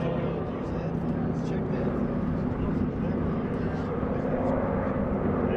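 GEICO Skytypers World War II-era planes fly a bomb-burst formation maneuver at an airshow, a continuous broad engine roar heard steadily throughout while an announcer speaks over it.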